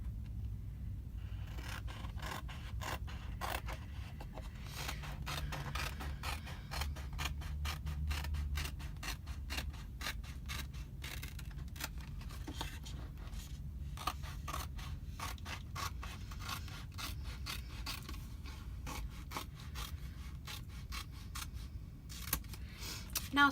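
Scissors cut apart a Chalk Couture transfer with quiet, close, repeated rasping snips and rubbing in a continuous run.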